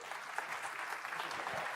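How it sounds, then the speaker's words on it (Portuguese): An audience claps steadily in a brief, continuous burst of applause for startup founders at the AI Summit Brasil 2024, moderately distant with a faint voice underneath. "Palmas para eles,"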